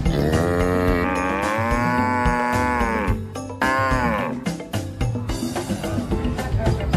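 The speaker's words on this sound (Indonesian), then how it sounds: "Ternyata di sini ada seekor sapi." A toy cow lets out a long, loud electronic moo over a backing tune, followed by brighter musical notes, with no talking over it.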